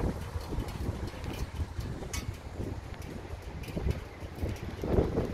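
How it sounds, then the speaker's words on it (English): Steady wind gusts buffet the microphone outdoors in a Sam's Club parking lot, a low rumbling rush that swells and dips without pause. "It's windy out here."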